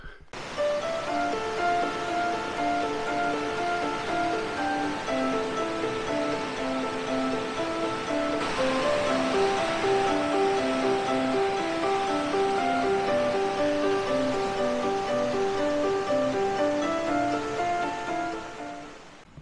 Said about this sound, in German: jetzt wollen wir uns mal die Wasserfälle hier unten, Cascada de Batida, anschauen